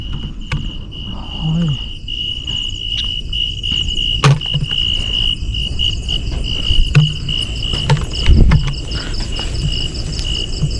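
Wild Patanga grasshoppers in an open field produce a steady, loud insect chirring that fills the whole stretch, with faint rustles and a few brief knocks underneath and no talking.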